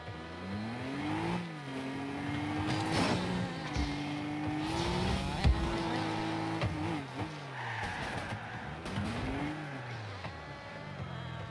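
Rocket League cars buzzing and whining like a mosquito, with engines revving up and down in repeated pitch sweeps, plus tire squeals and thumps, continuous and fairly loud, with no talk.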